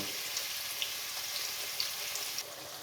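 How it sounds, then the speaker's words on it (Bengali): Chopped medium onions frying in oil until golden for a beef masala, giving a steady soft sizzle with faint crackles and pops throughout, no voices. "পেঁয়াজগুলোকে আমি গোল্ডেন কালার করে ভেজে নেব"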